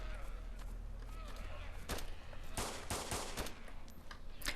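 Gunshots in DayZ Standalone, a handful of sharp cracks spaced through the second half over a low steady background, with voices talking intermittently.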